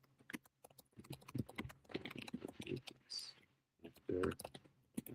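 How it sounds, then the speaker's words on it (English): Computer keyboard typing as someone enters a search query, with bursts of quick key clicks broken by pauses, close and fairly quiet, mixed with brief speech and short thumps. "I'm just typing it in here."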